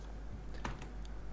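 Computer keyboard keys tapped for a Control+C copy shortcut, a couple of light clicks with one sharper keystroke in the middle, quiet over a low steady hum.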